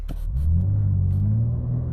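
BMW M4 under launch-control acceleration: a loud, deep engine rumble that rises steadily in pitch as revs climb, close and continuous, with no talk over it.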